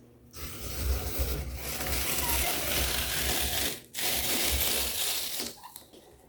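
A hand-cranked apple peeler-corer works through an apple for applesauce, making loud continuous crunching and grinding that stops briefly midway, then resumes before trailing off.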